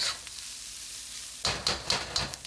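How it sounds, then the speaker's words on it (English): Already-cooked ham fries toward crispness in a pan with a bright, steady sizzle, then a few close stirring scrapes and soft knocks break through the hiss. "This is obviously cooked already, it's ham, so just heating it up and getting it crisp on the edge."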